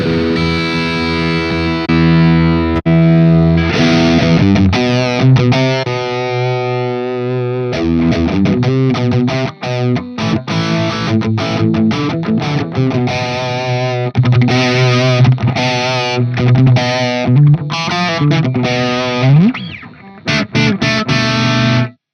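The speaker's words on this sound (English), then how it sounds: "It's based on a Mesa Boogie dual rectifier orange channel, and the switch goes between vintage and modern voicing." Electric guitar with humbuckers through the Zoom G11 RectiORG amp model, based on a Mesa Boogie Dual Rectifier orange channel, plays heavily distorted riffs and sustained chords with deep bottom end, loud and alone after a brief ringing intro.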